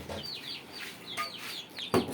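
A hen clucks repeatedly nearby in short, rising calls, with a sharper squawk near the end.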